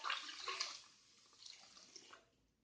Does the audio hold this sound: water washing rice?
yes